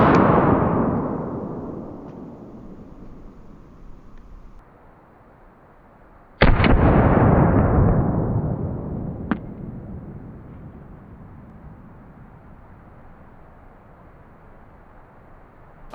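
Two loud, sharp gunshots from a 9mm carry pistol fired outdoors, a few seconds apart, each followed by a long echoing decay, with a faint click in between.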